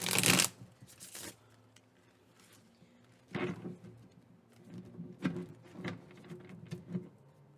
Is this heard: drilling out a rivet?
no